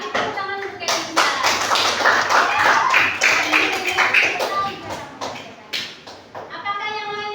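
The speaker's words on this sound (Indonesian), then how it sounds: "Beri tepuk tangan untuk Kemensa." A classroom of students claps hands for a classmate: a dense burst of quick, uneven claps lasting several seconds, mixed with children's voices and chatter, thinning out toward the end.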